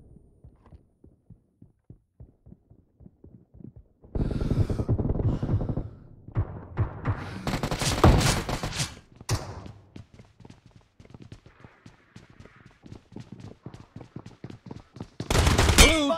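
Bursts of automatic gunfire from the BGMI team deathmatch video game ring out loud and close, starting around the fourth second, with steady rhythmic thumps underneath and a final sharp volley at the end.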